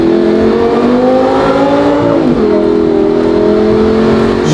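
A Lamborghini fitted with a $10,000 aftermarket exhaust revs loud and close in first gear, the engine note climbing steadily, dipping briefly around the middle, then holding a steady high drone without talk.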